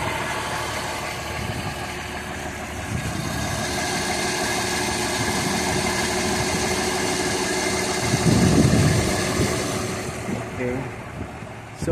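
Idling engine of a 1965 Ford Mustang fastback runs on with a steady mid-low rumble, someone talking over it in places and a brief louder burst of activity near the end.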